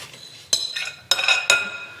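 A spatula scrapes around a mixing bowl of fruit cake batter. Three sharp, close scraping strokes sound with bright clinking edges, separated by brief quiet pauses.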